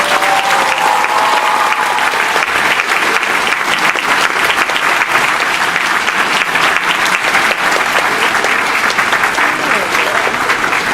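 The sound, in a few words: convention audience applauding the actors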